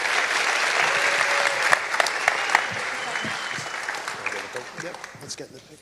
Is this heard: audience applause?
yes